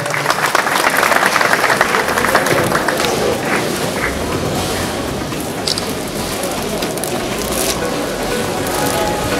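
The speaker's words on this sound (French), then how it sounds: "Applaudissons s'il vous plaît." A large crowd claps steadily and loudly at a welcome ceremony for the Spanish ambassador at a Kinshasa institute, a dense patter of applause that continues throughout with faint voices mixed in.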